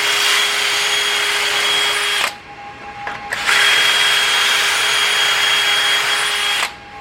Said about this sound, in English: it drills at an angle and sets up these screw holes